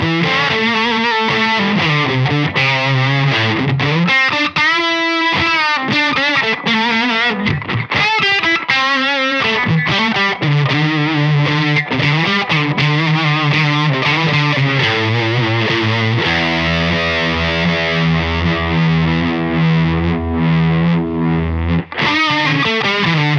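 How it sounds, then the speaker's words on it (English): A guitar runs through a Silk Tone Fuzz Face-style fuzz into a Thorpy FX ER-2 Uni-Vibe, playing a long, loud, continuous passage of saturated, throbbing notes and bends with sustained chords toward the end. "So I grabbed a silk tone fuzz, which is a fuzz face style pedal."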